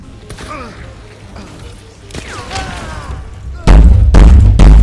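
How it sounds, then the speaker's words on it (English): Loud sudden blasts near the end as an exploding harpoon from a bomb launcher goes off in a video game, two or three heavy booms following quieter talk. "They both shoot a harpoon that explodes"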